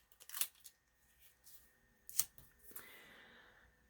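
An Olfa snap-off utility knife blade being broken off, two sharp crisp snaps with small clicks and light handling noise, close and quiet.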